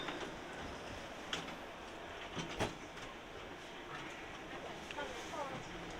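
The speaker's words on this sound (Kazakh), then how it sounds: "Міне біздің трамвайға кірдік." A Toronto streetcar rolling along its rails, heard from inside as a steady low rumble with faint rhythmic clicks and rattles, fairly quiet throughout.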